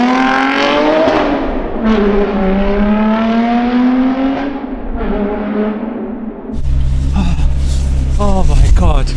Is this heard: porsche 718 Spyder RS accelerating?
yes